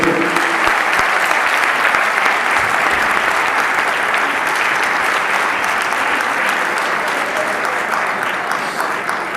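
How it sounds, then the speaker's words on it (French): Steady, loud audience applause fills a cybersecurity forum hall, continuous dense clapping from a large crowd without pause. "vous pouvez les applaudir."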